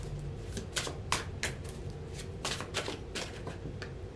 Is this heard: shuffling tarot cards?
yes